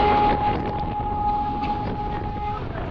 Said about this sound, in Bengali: আর ট্রেন এখানে মৌচাকে ক্রসিং দিছে